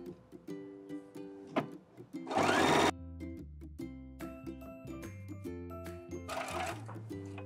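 A sewing machine stitching a flat felled seam with a flat felled seam presser foot, heard as short mechanical whirring runs that stop and start, with a couple of louder noisy bursts.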